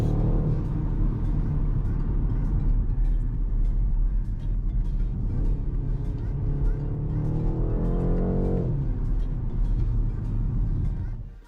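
A 2020 BMW 128ti with its stock exhaust drives along, its engine a steady loud droning rumble throughout, rising in a smooth rev swell partway before easing off.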